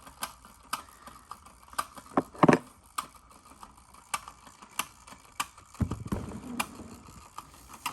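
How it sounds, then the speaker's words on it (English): A celluloid wind-up space boy toy clicks steadily, sharp mechanical ticks repeating at a regular pace, with a brief louder rattle of the gears and a low scraping whir partway through. "Kind of makes that clicking sound."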